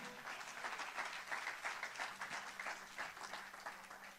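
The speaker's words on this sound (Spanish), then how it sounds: "Denle un aplauso al Señor." Church congregation applauding steadily throughout, a dense wash of many hands clapping at moderate distance with no break.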